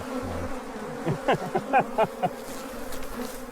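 Honeybees swarming as comb is dug out of a colony: a steady close buzz of many wings with a few louder, rising whines of individual bees passing near.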